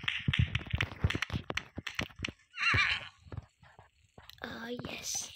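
A horse in a video game whinnies loudly mid-clip, with a second neigh near the end, set among hoof clip-clops and soft, close talking from a player.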